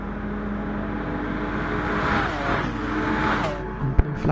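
Race cars at Le Mans in GT Sport, engines droning and shifting pitch as they run through a chicane, with a commentator talking over the steady roar and a sharp knock near the end.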